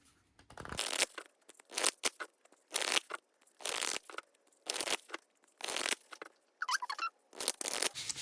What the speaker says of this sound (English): Here I go with the shuffling